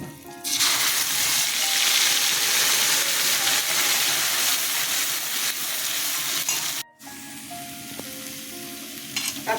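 Ginger, onion and green chilli paste sizzles loudly in hot oil, a dense, steady frying hiss that runs almost unbroken, dips sharply for a moment, then resumes slightly softer.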